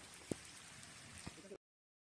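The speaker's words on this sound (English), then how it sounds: "That was the downpour we were experiencing while fishing." Heavy rain pours down steadily during a fishing trip, a dense continuous hiss of falling water with a couple of sharp knocks, ending abruptly in silence.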